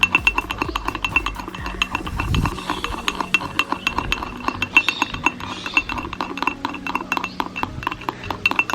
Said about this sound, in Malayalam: ഇങ്ങനെ പഞ്ചസാരയും ആ വെള്ളവും അതുപോലെ തന്നെ നമ്മുടെ ഈ കാപ്പിപ്പൊടിയും കൂടി ഇങ്ങനെ മിക്സ് ചെയ്തുകൊണ്ടേ ഇരിക്കുകയാണ്.